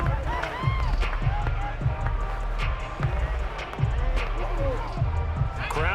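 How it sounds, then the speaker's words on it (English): A stadium crowd murmurs and swells in a Saints vs Buccaneers football video game, a steady roar under commentary with scattered bumps and thuds. "Crowd getting in it a bit already."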